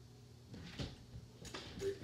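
A door in the Minecraft video game opens and closes in a couple of soft, quick clicks, faint over a quiet background.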